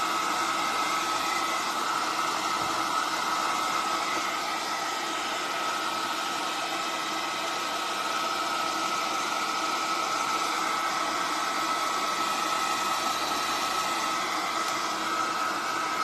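A heat tool blows steadily to dry Mod Podge on a recycled craft project, a close, loud, unbroken whirring hiss with a faint whine that holds for the full stretch without talk.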